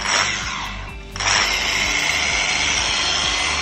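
A Lake Country UDOS 51E power sander in sander mode whirs steadily and loudly up close, a brief dip in its whine near the one-second mark before the motor settles back to full speed.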